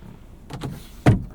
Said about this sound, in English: Here's our moonroof.